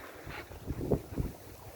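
A sailboat under full sail at about five knots in moderate wind gives off low whooshing wind and water sounds with soft swells of rushing, fairly faint and without talk.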